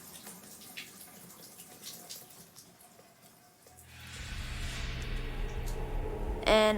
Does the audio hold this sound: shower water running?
yes